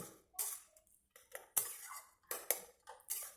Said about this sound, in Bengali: লাউটাকে আমি নেড়ে চেড়ে সেদ্ধ করে নিচ্ছি